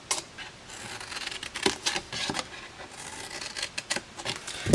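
Scissors or a blade cutting a paper flap off a cardstock storage box, a few close crisp snips and rustles over about five seconds.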